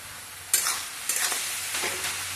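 Tender amaranth stem greens stir-fry with garlic and chili in a pan, a steady sizzle broken by a few sharp scraping stirs, close and loud with no voices.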